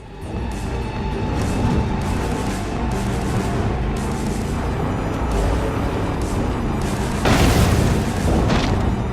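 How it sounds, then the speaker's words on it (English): Booming explosions in Far Cry 5 zombie mode, a dense loud rumble of blasts throughout, with a sharper burst near the end. "There's an explosion!"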